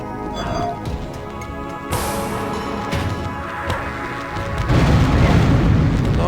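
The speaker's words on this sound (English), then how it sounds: "Lots of explosions all over the place, as you'd expect from a crashed ship." Explosions go off around a crashed ship in the video game Unreal, a series of loud booming blasts and crashes that swell and overlap, growing heavier toward the end, with no talking.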